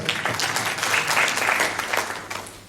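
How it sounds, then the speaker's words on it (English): Audience at a public administration seminar in South Africa gives a sustained round of applause, dense and steady clapping from a roomful of people lasting throughout, with no talk over it. "Can we give him another round of applause?"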